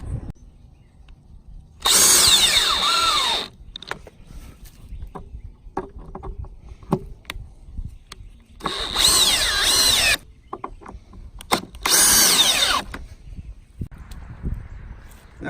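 Power drill driving lag screws into the wooden corners of a raised garden bed, in three loud bursts of a few seconds each with quieter handling noise between them.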